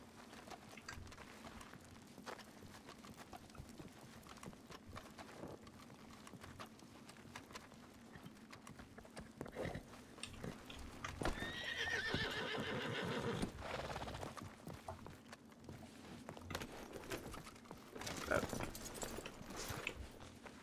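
A horse in the RedM video game, hooves clip-clopping steadily while it gives several loud neighs and whinnies, with someone talking over the sounds.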